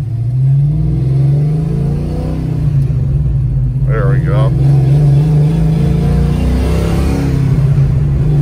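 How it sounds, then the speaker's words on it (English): 1993 Ford Mustang with a Hurst shift handle and Steeda shifter driving along, a steady engine drone that rises in pitch through a gear change, with someone talking briefly over the rumble. "Let's see some shifting action here."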